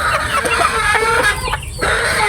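Sweater gamefowl chickens clucking nearby, loud repeated clucks and short calls over a busy farmyard background, with no talk.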